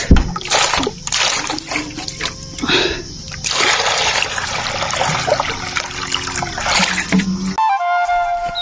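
Water is poured out for a thirsty buffalo, splashing and trickling loudly up close in uneven gushes before cutting off abruptly near the end.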